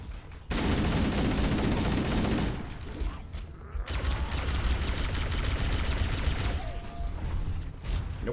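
Sustained bursts of rapid gunfire and explosive booms fill a firefight in Halo: Combat Evolved, loud and dense, dipping briefly near the middle before resuming with continuous shots.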